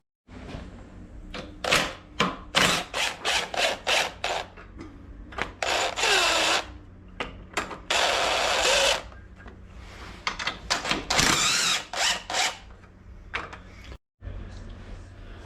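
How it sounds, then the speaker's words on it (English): Rapid bursts of a power tool loosen bolts on a Honda HS928 snowblower gearcase, short repeated whirs and ratcheting hits with a few longer runs, close and loud, no talking. "So basically loosen up the bolts."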